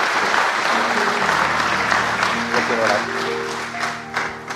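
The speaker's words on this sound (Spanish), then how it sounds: "Y demos un aplauso a Dante." An audience breaks into sustained applause for Dante at a Christian church program, clapping loud and steady throughout, with a voice speaking over it.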